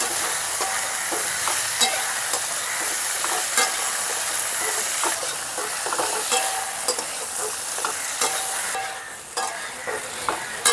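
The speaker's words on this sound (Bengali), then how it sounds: "সামান্য একটু ভাজা ভাজা করে নেব।" Starfruit chutney with turmeric and salt lightly frying in a pan, a continuous close sizzle broken by repeated spoon scrapes and clinks against the pan, fairly regular, quietening slightly toward the end.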